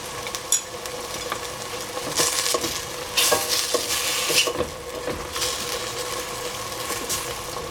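King oyster mushroom stir-frying in a pan: steady sizzle with repeated scraping and stirring strokes of a utensil against the pan, irregular bursts loud and close, with no talking.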